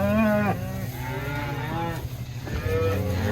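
Cows and calves moo from a livestock trailer, several long, loud, drawn-out calls overlapping one another over a low background rumble.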